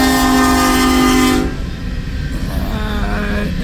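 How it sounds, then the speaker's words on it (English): A westbound freight train of empty cars rolls through the Midwest, its loud horn blaring for a long blast close by before giving way to a heavy rumble and rattle of passing wagons. "Another empty westbound cold drag."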